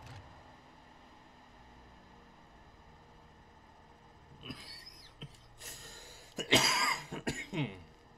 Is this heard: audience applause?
no